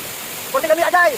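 Igpupula Falls waterfall gives a steady, even rushing hiss in the background while a voice speaks briefly over it near the end.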